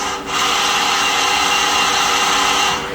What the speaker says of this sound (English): And then the gang slide moving.